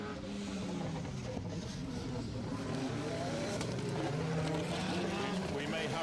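Skoda Fabia rally car on a stage of the SMC Stages Rally, a steady engine drone held throughout at moderate distance, with a commentator talking over it.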